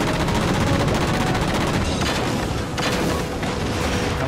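Heavy continuous gunfire shooting at jammers in the Halo 4 video game, loud dense automatic bursts with booming impacts throughout, no talking.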